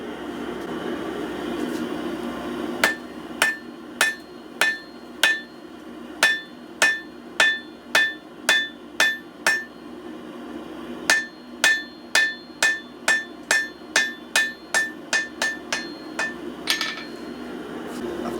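Hammer forge welding a random pattern Damascus billet fluxed with borax: loud, sharp metallic hammer strikes land in a steady, quick rhythm, in two long runs separated by a short pause, over a low shop hum.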